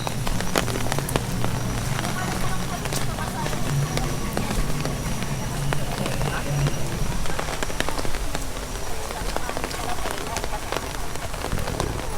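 Heavy rain pours down in the open at Tokyo DisneySea, a dense steady hiss of drops hitting the ground and surfaces throughout, with people talking underneath.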